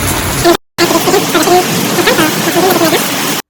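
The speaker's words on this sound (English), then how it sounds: "It's raining so heavily." Heavy rain pours down in a dense, loud, steady hiss, briefly cut off near the start, with a voice speaking over it.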